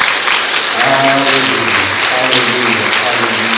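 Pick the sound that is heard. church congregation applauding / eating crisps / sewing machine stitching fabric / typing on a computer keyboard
church congregation applauding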